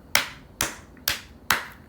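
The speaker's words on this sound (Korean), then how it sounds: "박수 쳐" Four crisp, evenly spaced claps from students in an English grammar class, sharp and close with short decays between them.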